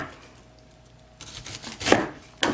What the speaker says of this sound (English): when she is chopping, you don't want to chop them too big